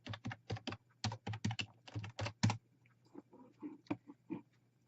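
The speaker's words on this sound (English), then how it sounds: "Just trying to type in everything to get into my account." Fingers type on a computer keyboard, entering login details for an account: a quick run of crisp keystrokes, then slower, scattered presses, close and quiet, with no talking.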